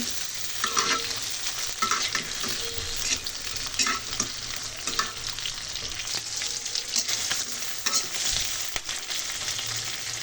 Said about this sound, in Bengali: তাতে তেল দিয়ে দিলাম, চিংড়ি মাছটা দিয়ে দিলাম, ভালোভাবে ভেজে নেব।